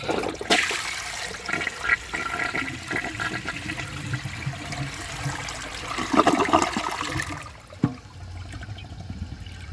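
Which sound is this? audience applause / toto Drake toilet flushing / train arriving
toto Drake toilet flushing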